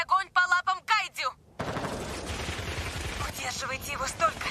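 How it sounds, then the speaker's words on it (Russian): A voice speaks briefly, then a dense barrage of rapid gunfire erupts as defense forces fire on a kaiju in the anime Kaiju No. 8, loud and crackling with scattered layered shots. "Силы обороны, немедленно открыть огонь по лапам кайдзю."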